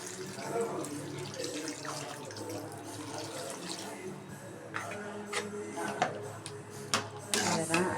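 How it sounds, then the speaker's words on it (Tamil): Water is poured into a hot pan of fried spices for pepper rasam with a rushing, hissing splash over the steady sizzle, with some clinks of utensils near the end. "இப்போ தண்ணி ஊற்றிக்கலாம்"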